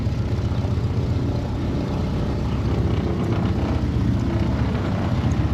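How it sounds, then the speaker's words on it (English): A steady, loud engine drone rumbles on without pause, an aircraft idling nearby with constant low roar and hiss. "There's one of the airplanes, looks like it's about to start taking off."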